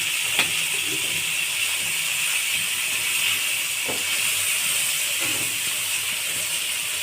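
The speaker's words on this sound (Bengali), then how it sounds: "দিয়ে ভালো করে নেড়ে তেলের মশলাটা আমি কষিয়ে দেব" Spice paste with bay leaf frying in oil for a potato and eggplant fish curry, giving a steady loud sizzling hiss throughout with occasional faint stirring knocks.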